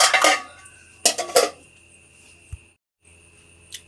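A metal spoon knocks against a bowl while adding spoonfuls of sour curd (yogurt), with two bursts of bright clinking and scraping separated by quiet, then a soft tap and a faint click.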